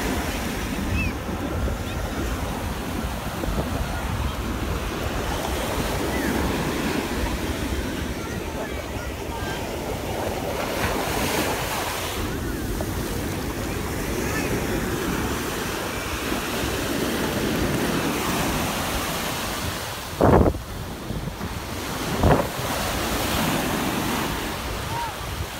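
Atlantic beach surf with steady rolling waves and gusting wind, a continuous wash close by with a couple of sharp wind buffets on the microphone near the end.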